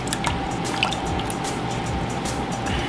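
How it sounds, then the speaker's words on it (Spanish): A liter of cream poured into a bowl for chantilly in a home kitchen, a steady liquid stream with soft dripping and gurgling, continuous and close. "Hasta ahora voy a poner un litro de nata"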